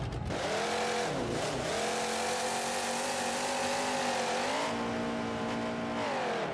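A monster truck engine roars during a stadium freestyle run, revving loud and continuous with pitch dips and surges as the throttle is worked, steady high-volume drone throughout.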